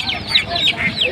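Chickens at a village poultry market cluck and squawk repeatedly in short, close bursts, loud and lively, with market chatter in the background.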